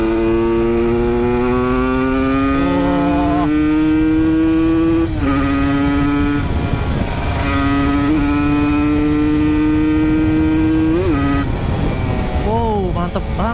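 An Aprilia RS 125, a 125 cc sport motorcycle, is ridden with its engine loud and close. A high buzzing note climbs through the gears, dipping at each shift and rising again, with a brief rev near the end.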